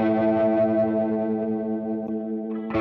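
Electric guitar run through a NUX Trident multi-effects pedal, with the boost placed before a modulation effect: a sustained, heavily processed chord with chorus-like shimmer and grit, ringing steadily and loudly before a fresh strum near the end.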